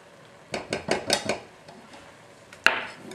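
A whisk knocks against a pot while pastry cream is beaten, giving about five quick metallic clinks in a row, then a sharper clank. The sounds are close and fairly loud, and no one speaks.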